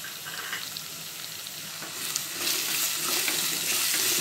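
Onion, green chilli and curry leaves sauté in a pan, giving a steady close sizzle that grows louder and more hissing partway through.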